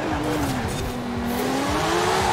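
In Forza Horizon 4 a Porsche launches aggressively, engine revving with a rising whine as tires squeal continuously and loudly up close, the tone bending as the car accelerates away.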